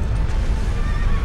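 A horse neighs in the video game Shadow of the Colossus, a drawn-out whinny over a dense low rumble, loud and alone without talk.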